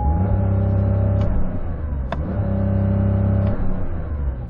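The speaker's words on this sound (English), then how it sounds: "put it into launch control mode and then, like, sort of rev it in launch control" A sports car held in launch control revs hard and steadily, a loud close engine drone with a few brief surges and no talk, the car being either a Lamborghini Huracán Sterrato or a Porsche 911 Dakar.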